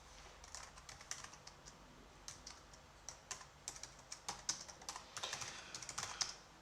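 Typing on a computer keyboard while writing code, with soft, uneven clicks that grow denser and louder toward the end, close up and with no talking.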